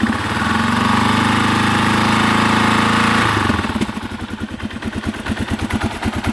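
A motorcycle engine roars steadily just after starting, then drops into a loud, close, rhythmic chugging idle with the choke on, needing some fine tuning.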